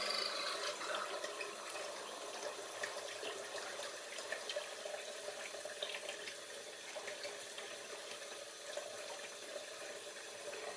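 Water runs in a continuous, even stream from a pump outlet, a soft rushing flow, quiet and unbroken.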